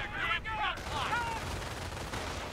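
Anti-aircraft guns in Company of Heroes: Tales of Valor, set during the Normandy invasion at Vierville, fire at infantry in bursts of rapid gunfire mixed with brief voices.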